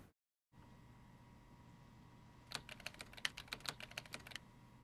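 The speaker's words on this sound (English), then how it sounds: "It's typing pretty fast for that" Fast typing on a computer keyboard in the film Contact: a quick burst of crisp, closely spaced key clicks after a brief silence, over a faint steady hum.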